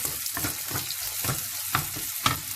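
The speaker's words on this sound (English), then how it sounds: "Then I'm going to add the saute fried vegetables into this. So the onions, carrot and peas. I'm going to nicely fry this." Onions, carrot and peas frying in a pan for upma, a steady close sizzle with soft stirring scrapes recurring every half second or so, no voices.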